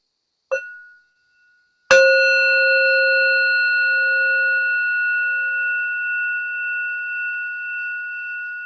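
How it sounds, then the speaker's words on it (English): A mindfulness bell is struck, first with a short light touch, then a full strike that rings out clearly in a long, pure, slowly fading tone. "you can get a bell like this, and you can learn to invite the bell"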